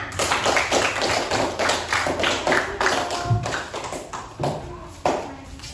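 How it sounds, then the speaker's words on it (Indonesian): Schoolchildren in a classroom clap for classmates who planted chili plants, a quick, ragged burst of close claps with a few louder slaps standing out. "Beri tepuk tangan dulu untuk temannya"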